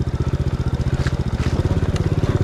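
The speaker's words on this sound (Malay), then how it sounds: "Ni pun motor lama ni." An old motorcycle engine used for riding into a plantation chugs steadily at close range, a fast regular pulsing beat, loud and alone.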